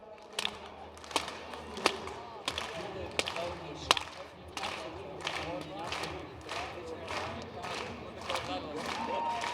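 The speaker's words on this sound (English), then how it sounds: "So let's clap it up for Anika." An audience claps in rhythm for high jumper Anika McPherson at a marathon-weekend high jump competition, a steady series of sharp claps with crowd noise beneath.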